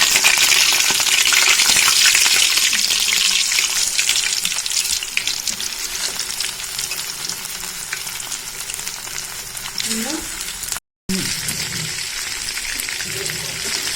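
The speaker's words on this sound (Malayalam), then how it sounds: "മാഗ്നേറ്റ് ചെയ്ത് വെച്ചിട്ടുള്ള ചിക്കൻ ഫ്രൈ ചെയ്തെടുക്കാം." Marinated chicken fries in coconut oil in a pan over medium flame, a steady loud sizzle running throughout with occasional stirring scrapes and a brief dropout near the end.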